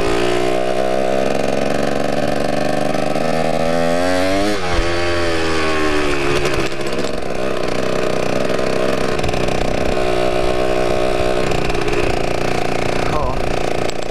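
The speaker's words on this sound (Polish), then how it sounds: "no to jest Yamaha DT125" A Yamaha DT125 two-stroke motorcycle engine runs loud and close, its buzzy, raspy tone rising and falling as the revs swing up and back, with a person talking over it.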